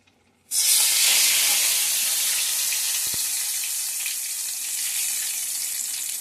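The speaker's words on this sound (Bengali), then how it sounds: "এই তেলের ওপরে ফোড়নগুলো দিয়ে দেবো।" Whole spices hit hot oil with a sudden loud sizzle that settles into steady crackling and hissing, close up, while tempering for palak chicken.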